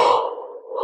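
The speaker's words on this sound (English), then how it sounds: "It wouldn't be a video without a yawn." One close yawn, a breathy, voiced stretch that dips in the middle and rises again at the end.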